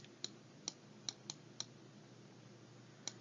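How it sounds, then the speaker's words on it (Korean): Six crisp, isolated clicks from a computer mouse tick out at irregular intervals during handwriting with the mouse, quiet and close against a low background hum. "마우스로 쓰려니까 잘 안되네요."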